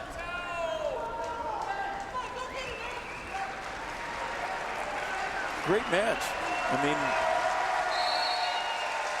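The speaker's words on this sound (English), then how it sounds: "hear the crowd get excited" Iowa fans cheer and applaud in an arena at the Big Ten wrestling championship, a broad sustained crowd roar beneath a commentator talking throughout.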